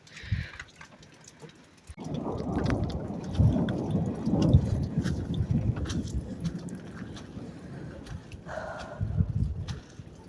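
Thunder rumbles through a spring rainstorm in Sumy region, Ukraine: a deep, loud roll swells after a quiet start and lingers for several seconds, with patter and hiss of rain and a faint distant voice.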